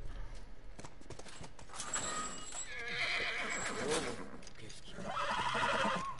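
Horse whinnying and hooves clip-clopping in The Last of Us video game, the neighs rising over steady hoof steps, with a voice speaking in French alongside.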